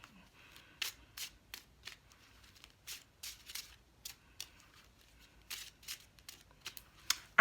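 A deck of playing cards is shuffled by hand, a run of quick riffling bursts repeating roughly every half second, close and fairly quiet with no talking.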